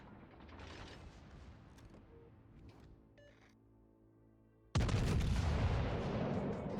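Secondary guns on a battleship in World of Warships fire in scattered pops and mechanical clanks over a low rumble, then a sudden, sustained loud blast of heavy gunfire booms out near the end.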